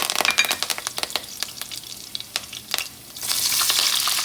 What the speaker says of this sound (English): Add chopped curry leaves.